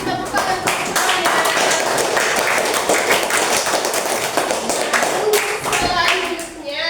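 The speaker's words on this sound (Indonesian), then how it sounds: "tepuk tangan untuk semuanya" Children in a classroom clap together during a civics lesson, producing a steady stream of sharp, close handclaps that runs the whole way through, with young voices mixed in underneath.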